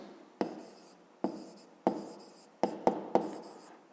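Pen writing on paper during a 7th-grade physics exercise: a series of close, sharp scratchy strokes in irregular bursts, each starting with a tap and fading, with no speech.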